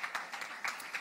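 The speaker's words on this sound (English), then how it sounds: "Welcome, and a big round of applause." Brief burst of audience applause at the Devi Awards 2014 ceremony, a short patter of clapping hands from a crowd, moderately loud and with no speech.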